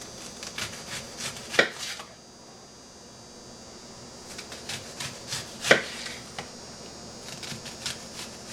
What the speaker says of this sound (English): we cut up 1 whole onion, the biggest we could find